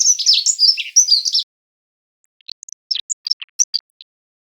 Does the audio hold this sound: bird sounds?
yes